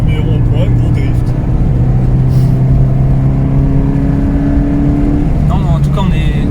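A 2012 Toyota GT86 with a 2.0-litre four-cylinder boxer engine drifts hard through a wet roundabout in the rain, its loud, close engine droning and shifting pitch while occupants talk over it.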